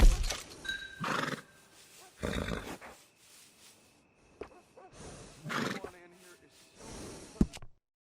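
Horse whinnies and snorts at a stable in the video game Red Dead Redemption 2, several loud bursts separated by quieter stretches.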